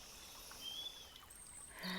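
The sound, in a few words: flowing stream water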